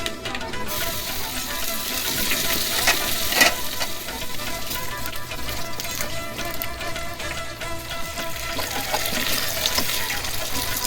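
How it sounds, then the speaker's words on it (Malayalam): Mustard seeds, fenugreek and shallots sizzle and crackle in hot oil while tempering for a mango pulissery curry, a steady close frying hiss with scattered pops throughout. "ഇനി നമുക്കിത് താളിച്ചെടുക്കാം. കടുക്, ഉലുവ,"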